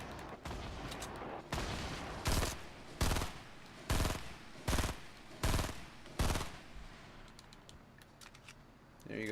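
Gunfire in the Fortnite video game, with several loud, sharp bursts spaced about a second apart over a steady background of game noise, fairly close and with no talk over it.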